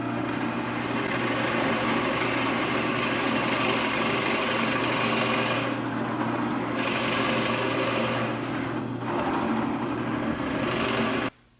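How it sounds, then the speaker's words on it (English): A high-pitched power drill motor whines continuously at close range while drilling holes in wood, holding steady with brief dips in pitch, then stops abruptly at the end. "Now with the holes drilled for the back legs"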